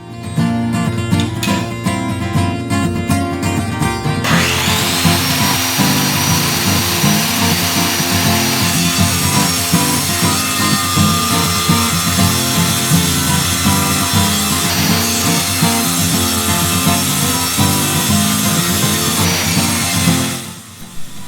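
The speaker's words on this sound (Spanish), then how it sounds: "También puedes usar este soporte como sierra de mesa." A power saw mounted in a stand and used as a table saw cuts through wood, a loud, continuous whine and rasp that holds steady for about twenty seconds before winding down.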